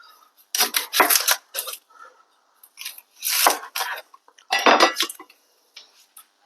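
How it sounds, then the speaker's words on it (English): An onion being chopped with a knife on a cutting board before going into a pan for tomato pizza sauce: close, sharp clusters of quick chopping knocks separated by short pauses. "I'm going to chop this and get it going in my pan."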